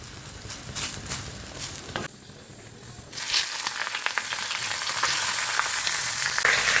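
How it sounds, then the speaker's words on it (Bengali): Neem leaves and eggplant (nim begun) fry in a pan with a steady sizzle, briefly dropping to near quiet before a louder, denser crackle returns and builds, with stirring scrapes in the mix. "চলো নিম বেগুনটাকে নাড়ানাড়ি করি, আবার সেটাও যদি পুড়ে যায়"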